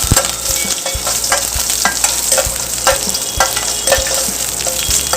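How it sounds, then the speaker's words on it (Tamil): Curry leaves and asafoetida sizzle in hot oil in a pan while being stirred, a tempering for kadamba chutney. Bright, close frying crackle is punctuated by regular scraping knocks of the spoon. "அது கூட கொஞ்சமாக கருவேப்பிலை, கொஞ்சமாக பெருங்காயத்தூள். இப்போ இதை நல்லா கலந்து கொடுத்துக்கலாங்க."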